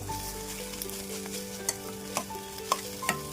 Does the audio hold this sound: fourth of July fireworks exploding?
no